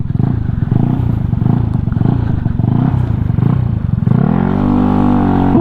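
A custom-built motorcycle engine runs with a rough, clattering idle close up, then revs up to a steady higher drone in the final seconds, loud and alone.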